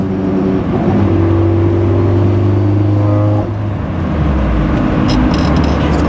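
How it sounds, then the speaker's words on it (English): A 1995 Nissan 240SX with an SR20 engine and Nismo exhaust revs loudly and close by, holding a steady droning note, then dropping in pitch as it shifts, with no talking. "Nice Nismo exhaust."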